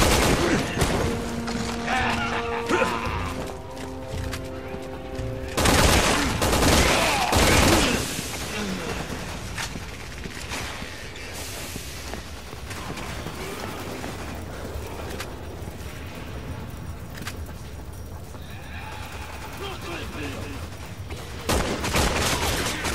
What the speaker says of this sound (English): Shooting, Pierce.